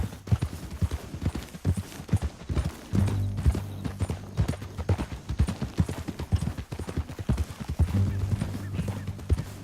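Rapid hoofbeats of a galloping horse in the video game Red Dead Redemption 2, near a cliff, loud and rhythmic, carried on over a low rumbling background.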